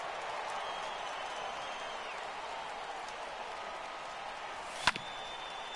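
A big baseball stadium crowd of over forty thousand in San Diego cheers and applauds on their feet during a tense late-game moment, a broad sustained roar with a sharp brief knock near the end.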